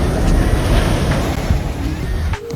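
Ocean surf rolls onto a Miami beach in a steady, loud wash of breaking waves, mixed with gusts of wind buffeting the microphone and no talking.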